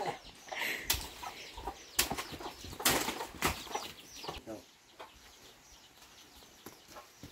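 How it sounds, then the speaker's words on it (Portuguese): Chickens flap their wings in sudden bursts, with loud fluttering and scattered clucks close by, then settling into quieter rustling. "Oh, assustou as galinhas."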